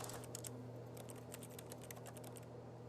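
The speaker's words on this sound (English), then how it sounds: "That clack on keyboard is like in game." Keyboard keys clack in quick, irregular bursts in the video game The Stanley Parable, faint and close with a low steady hum underneath and no talking.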